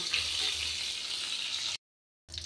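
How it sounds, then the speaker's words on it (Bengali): Tomato and green chili dropped into hot oil in a kadai, a steady hissing sizzle that runs close and even, then cuts to silence before resuming briefly. "এখন টমেটোটা, কাঁচা লঙ্কাটা দিয়ে দিলাম তেলের উপরে"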